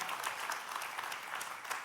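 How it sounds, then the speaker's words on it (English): A church congregation gives brief applause during a sermon, a steady wash of many hands clapping at moderate distance with no talk over it. "I know you were applauding for her"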